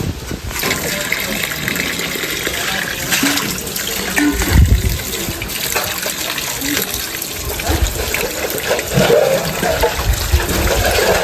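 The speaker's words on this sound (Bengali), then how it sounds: "মাছটা ভালো করে ধুয়ে নিচ্ছি এবার।" Tap water gushing steadily while kan magur catfish is rinsed clean for a curry, a continuous close splashing stream with a voice talking over it.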